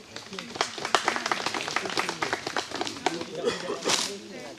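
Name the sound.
people clapping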